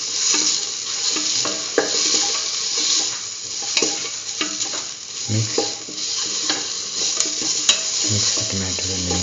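Tomato and spice mixture is stirred in a sizzling frying pan for a potato cucumber stew. The spoon scrapes steadily against the metal while the oil crackles loudly and continuously, and occasional clinks are heard.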